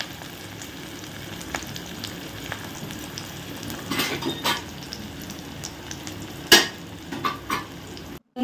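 Onions fry in a pan for Korean-style Maggi noodles with a continuous soft sizzle, broken by a few utensil clanks against the pan near the end.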